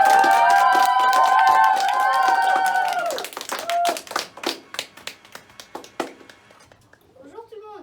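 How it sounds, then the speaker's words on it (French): At a children's summer 2019 magic course show, a sustained tonal passage gives way to scattered, uneven hand claps from a small audience that thin out and fade for the last contestant. "on va applaudir très très fort notre dernier concurrent et candidat pour le niveau brun"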